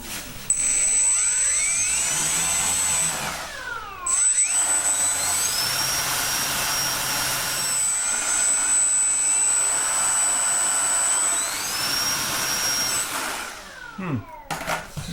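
An FMS F4U Corsair V2 800mm RC plane's electric motor spins up to a loud, steady whine that rises and falls with throttle changes, dropping briefly around four seconds and spooling down near the end.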